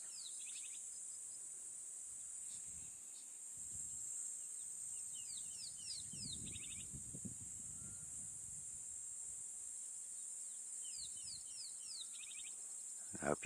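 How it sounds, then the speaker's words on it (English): A bird calls in brief repeated chirping bursts over a loud, steady, high cicada drone outdoors in nature, with a low rustle partway through. "There is a bird calling here."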